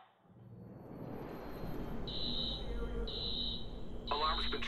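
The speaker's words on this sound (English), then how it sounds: "Alarm's been tripped." An alarm sounds in the video game Watch Dogs, a repeating high electronic beeping in steady pulses over a rumbling background, with game voices talking beneath it.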